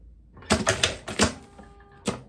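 A sewing machine stitches a fly zipper into tailored dress shorts, giving several short, close, rattling bursts of stitching with pauses between them and no talk.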